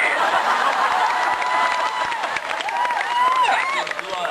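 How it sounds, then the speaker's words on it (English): Scattered applause from a convention audience at Dragon Con 2010, a light smattering of claps mixed with crowd murmur and some voices talking over it. "Smattering of applause."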